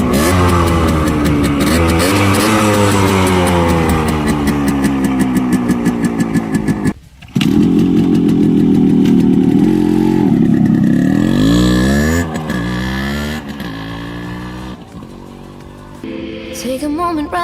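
Yamaha RX100 two-stroke motorcycle from 1998 kick-started and revved repeatedly, its engine note climbing and falling loudly with a brief cut around the middle, and a voice talking over parts of it.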